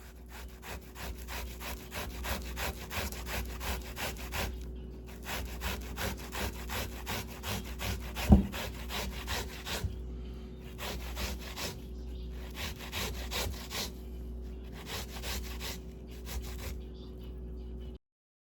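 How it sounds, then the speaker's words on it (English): Sweet potato is rubbed on a hand grater with the skin off, a close rhythmic rasping in steady back-and-forth strokes with a couple of short pauses and a sharp knock near the middle. "Then we're going to grate this without the skin."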